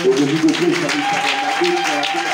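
A church congregation applauds and cheers in acclamation, a dense, steady wash of clapping with voices and shouts mixed through it from start to finish.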